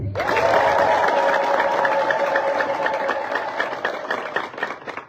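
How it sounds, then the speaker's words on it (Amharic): A rural Orthodox church gathering answers with rhythmic clapping from the crowd, quick even claps running under a sustained high voiced tone that fades slightly toward the end. "አጨብጭቡ።"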